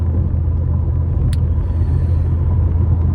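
Steady low road rumble inside a moving car, a continuous drone with no talking over it and a single brief high tick midway.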